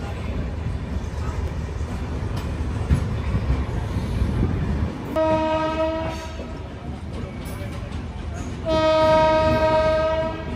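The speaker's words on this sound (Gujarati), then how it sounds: "આપણી યોગનગરી ઋષિકેશ એક્સપ્રેસ રવાના થઈ ચૂકી છે અમદાવાદ સેન્ટ્રલ રેલવે સ્ટેશનથી" The Yoga Express to Rishikesh rumbles and clatters as it departs Ahmedabad railway station, then its horn sounds twice in long, loud blasts, the second louder, over continuous rail noise.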